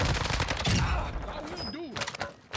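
Close, dense SMG fire in the video game Warzone, with a rapid, loud burst filling the first half before it gives way to someone talking and a few sharper shots near the end.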